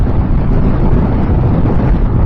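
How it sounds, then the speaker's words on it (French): Loud, constant wind roar buffeting the microphone while riding a Zontes Roadster 125cc motorcycle, a dense low rumble with no pauses, rushing along at speed. "la prise au vent, elle est infernale"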